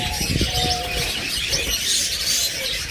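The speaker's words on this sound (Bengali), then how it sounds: "এক জোড়া রানিং টিয়া পাখি" A bonded pair of ringneck parakeets calls with repeated bright chirps and tweets over a steady hissing background, fairly close and moderately loud, with no talking.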